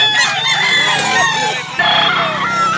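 Several gamecocks, including White Kelso roosters, crow repeatedly at a rooster seller's yard in Mantalungon, Cebu, with overlapping calls, one close and loud, over a steady background of other birds.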